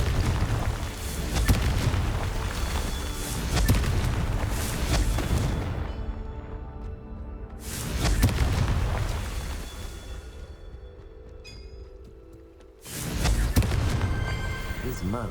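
Booming blasts from a Confringo fire spell in the video game Hogwarts Legacy, with loud broadband bursts near 0, 8 and 13 seconds and rumbling tails in between.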